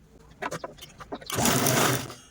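A sewing machine stitches a handle onto a zippered bag in a short, close burst of steady whirring, preceded by light handling taps.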